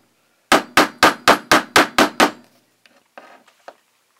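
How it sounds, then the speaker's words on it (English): A hammer taps a .303 British bullet into its cartridge case on a Lee Loader: eight sharp, evenly spaced metallic strikes close up, followed by a few softer, irregular knocks. "We'll get our hammer once again, and we're going to tap the bullet down into the cartridge case."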